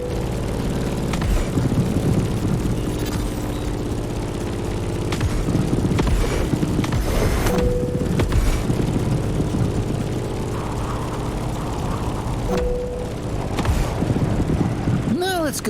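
Propeller plane flying in The Crew Motorfest over an island setting: a steady, droning engine and airscrew hum running loud and continuous throughout, with voices talking over it.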